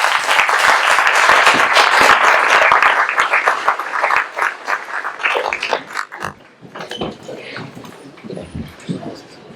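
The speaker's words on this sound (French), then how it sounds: "Nous pouvons les applaudir." Audience clapping at a town meeting in Malestroit, loud dense applause for several seconds that thins into scattered, fading claps toward the end.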